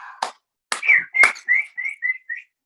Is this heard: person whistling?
yes